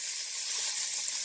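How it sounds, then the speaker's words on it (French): About one and a half finely chopped onions sautéing in a pan, giving a soft, steady sizzling hiss that holds evenly throughout, with no voices. "je vais faire revenir donc à peu près un oignon et demi que j'ai haché finement"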